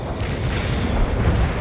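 Sustained artillery barrage in the World in Conflict strategy game, a dense, continuous rumble of overlapping booms and blasts rolling on without a break, loud and heavy throughout.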